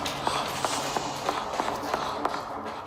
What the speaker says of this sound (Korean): 등 뒤에 발소리가 같이 빨라지는 거예요.